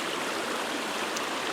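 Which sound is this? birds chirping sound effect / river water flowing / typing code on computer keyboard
river water flowing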